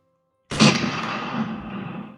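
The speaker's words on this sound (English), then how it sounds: "A sudden flash of fires in darkness, followed by a deafening crack of gunfire" A single rifle shot breaks out of silence, a loud, close crack that rolls out into a long, fading boom and echo.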